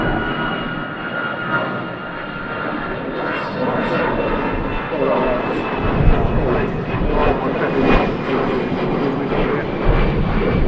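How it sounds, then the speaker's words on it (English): An easyJet Airbus A320 jet goes around at Manchester Airport in strong northerly winds, its engines giving a steady, loud broadband roar that swells slightly through the clip with gusty wind noise mixed in. "EasyJet A320 opting to come around for a second attempt"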